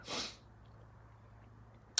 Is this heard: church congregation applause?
no